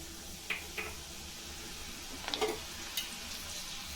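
Mustard seeds and split lentils frying in hot oil, a soft steady sizzle with a few faint crackling pops scattered across the clip, no voices.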